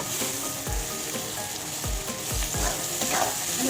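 Capsicum fries for chicken manchurian in a pan, giving a loud, continuous sizzle punctuated by several thumping stir strokes.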